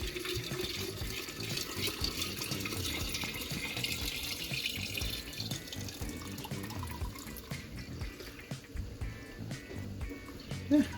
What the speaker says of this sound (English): And I'll top it up with this water out of this flask.